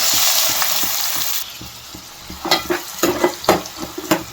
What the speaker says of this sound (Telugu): ఆయిల్ బాగా మరిగిన తర్వాత మనం అందులో ఆనియన్స్ వేసుకుందాం